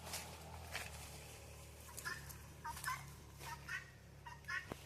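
Guinea fowl give repeated sharp, rasping calls in short bursts, fairly close, over a low steady background hum.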